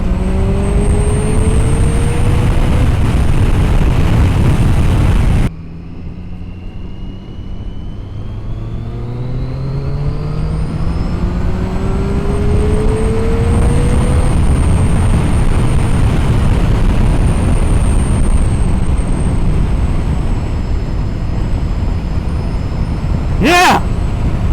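A 2013 Triumph Daytona 675 motorcycle accelerates hard to overtake, its loud engine note climbing through repeated rising gear sweeps, heavy wind roar throughout and a brief sharp burst near the end.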